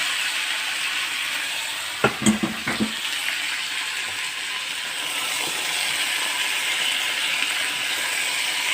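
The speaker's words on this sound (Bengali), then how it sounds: "এঁচোড়টা আর আলুটা দিয়ে দিলাম তেলের মধ্যে।" Jackfruit and potato pieces hit hot spiced oil in a pan, a steady broad hiss with a short cluster of clattering knocks early on, then an even sizzle that carries on without voices.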